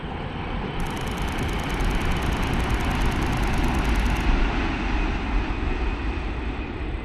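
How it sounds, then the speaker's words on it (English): A Japanese bullet train speeds through the countryside near Nagasaki. A steady, loud broadband rush and roar holds for the full seven seconds without a break, and no voices are heard. "it wasn't long after checking the schedules that we saw the first bullet train."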